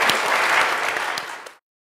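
An audience applauds after a Library of Congress presentation, a dense burst of clapping from a crowd that holds for about a second and a half and then stops abruptly.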